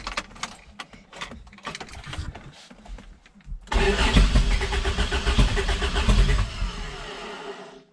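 A bodydropped Toyota minitruck with a new turbo 22RE engine cranks over several times in sharp stuttering bursts, then catches and runs loud and rough nearby for a few seconds before easing down.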